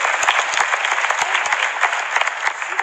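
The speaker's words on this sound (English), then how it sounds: "Let's give June another round of applause." An audience at a TEDx talk in Greenville claps in steady, dense applause, moderately loud and continuous without speech over it.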